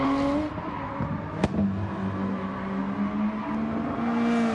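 A Gr3 race car lapping the Nurburgring in a racing game: steady engine drone with rising and falling pitch through gear changes, a brief sharp click near the start, and a continuous near tone.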